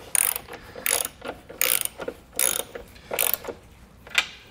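A wrench ratchets in quick bursts while tightening the bolts of a hidden hitch receiver on a 2020 Tesla Model, five or six close, crisp clicking runs with short pauses between them.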